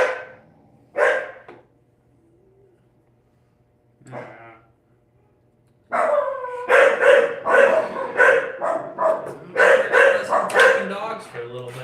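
Dogs in a home kitchen bark close by, first a few separate yaps with pauses between them, then a sustained run of loud, rapid barks and yips.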